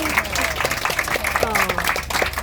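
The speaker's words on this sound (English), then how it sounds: "can I ask for a round of applause for your skipper?" Canal boat passengers on a Skipton cruise in North Yorkshire applauding their skipper, continuous scattered clapping from a small group, with voices talking underneath.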